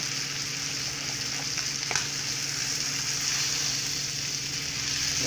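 Butter browning in a hot pan gives a steady, close crackling sizzle with a faint scrape of stirring partway through.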